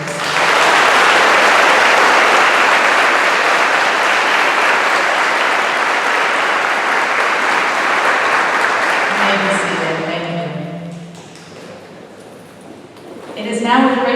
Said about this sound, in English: Please join me in applauding these students who have received these awards.